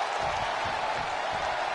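A wrestling arena crowd at the 1995 WWF King of the Ring applauds in a continuous, even wash of clapping and crowd noise, fairly soft throughout.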